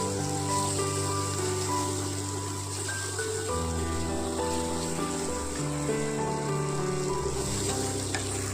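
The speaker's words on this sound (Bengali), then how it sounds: "বেসনটি দিয়ে ভালোভাবে আমি নাড়াচাড়া করে নেব।" Masala with gram flour frying in oil and being stirred for chicken chaap, a continuous sizzling hiss with faint tonal hum running steadily underneath throughout.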